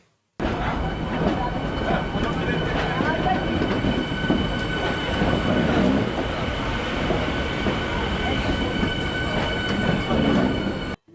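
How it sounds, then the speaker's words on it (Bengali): A twelve-coach AC local train between Ranaghat and Sealdah rumbles steadily along the tracks, loud and close, with continuous wheel noise and faint rhythmic clatter, engine hum and a high whine throughout. "বারো বগির এই ট্রেনটি রানাঘাট থেকে শিয়ালদা পর্যন্ত"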